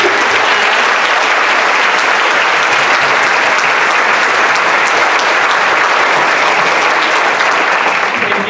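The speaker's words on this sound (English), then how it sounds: "So thank you to the panel. I'll give you a round of applause." An audience gives a panel of parents' speakers a dense, sustained round of applause, with many hands clapping steadily and evenly throughout, a loud, close crowd sound that never lets up.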